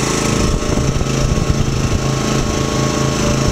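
AmeriQuip Eagle 40H boom lift rotating, a steady, loud mechanical hum of its motor and hydraulics running continuously close by, with a slightly rough, pulsing low rumble throughout.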